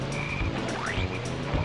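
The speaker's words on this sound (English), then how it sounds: "don't mind me, just looking at the frogs" Frogs croak in the Dragon Forest area of the video game Diddy Kong Racing, repeated croaks over a busy game soundscape with tones and a rising sweep.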